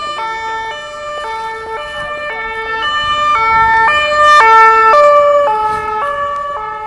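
A police siren wails through a Paris street, its two-tone pitch stepping steadily up and down, loud and close and swelling slightly as it nears, over a faint bed of traffic.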